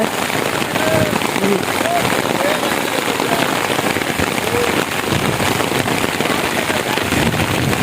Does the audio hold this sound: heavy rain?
yes